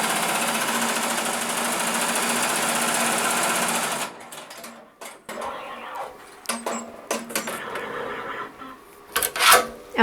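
A Melco embroidery machine stitching a monogram onto a Santa hat runs with a steady, loud rapid hum for about four seconds, then stops, leaving scattered clicks and handling clatter.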